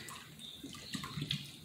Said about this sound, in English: And you rinse them out.